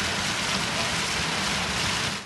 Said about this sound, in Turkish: Bir anda bastıran dolu yağışı il genelinde etkili olurken dolu taneleri kaldırım ve